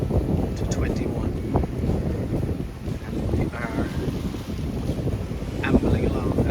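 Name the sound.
wind and water sounds while sailing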